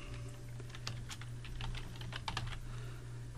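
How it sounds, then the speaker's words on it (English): Typing on a computer keyboard while entering table data in HTML, a quick irregular run of soft, close key clicks over a low steady hum, no talking. "In the country, I'm going to type USA."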